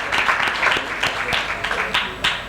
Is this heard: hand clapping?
yes